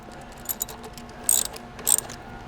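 A ratchet wrench with a 7/16 socket snugs the bolts on the mid-plate section of a Knight light tower. A few light clicks come first, then two short, close bursts of rapid ratcheting.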